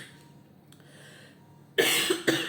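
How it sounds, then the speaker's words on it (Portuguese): A person coughs a few times close by, a sudden loud burst after near-silence followed by two shorter coughs. "ai que tosse chata"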